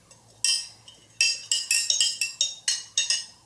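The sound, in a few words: sipping a green drink through a glass straw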